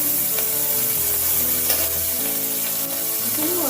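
Capsicum with yellow and red bell peppers stir-frying in a spoonful of hot oil for chow mein noodles, a steady close sizzle with stirring scrapes throughout, no voices.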